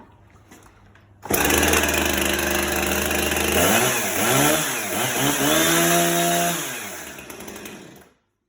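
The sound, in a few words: Husqvarna chainsaw starting and running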